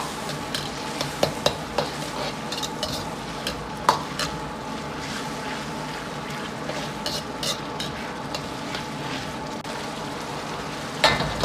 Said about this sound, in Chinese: 保持中火继续翻炒。